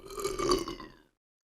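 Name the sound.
burp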